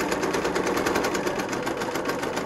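A domestic sewing machine stitches a quarter-inch seam on a fabric mask, running steady, close and loud with a fast even rhythm and no talking.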